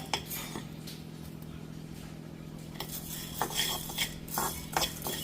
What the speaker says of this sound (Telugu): ధనియాలు ఇవి డ్రై రోస్ట్ చేయాలి